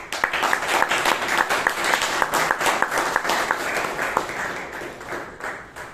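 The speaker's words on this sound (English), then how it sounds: "Let's give the speaker and the evaluator a round of applause" At a Toastmasters club meeting in Bangalore, an audience claps for a speaker and evaluator, a dense, lively patter of many hands, fairly close and sustained before gradually tapering off.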